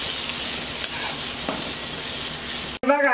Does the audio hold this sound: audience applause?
no